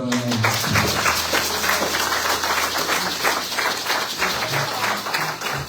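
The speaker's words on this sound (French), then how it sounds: "on va applaudir" A church congregation applauding during a Sunday service, a dense continuous patter of many hands that holds steady for several seconds with no talk over it.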